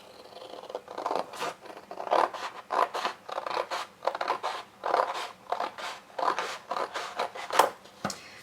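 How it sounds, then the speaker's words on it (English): Scissors cut through folded card paper in a series of short, crisp snips with a scraping edge, close and fairly quiet, repeating in an uneven rhythm with no talking. "So fold it, and then I'm going to cut it in half"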